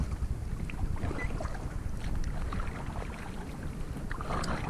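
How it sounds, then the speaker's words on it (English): A motorboat passes on the open Gulf of Mexico, heard from a kayak as a steady broadband wash and rumble mixed with wind buffeting the microphone and lapping water, continuous at moderate loudness with no talk. "The boat goes by, it makes little waves."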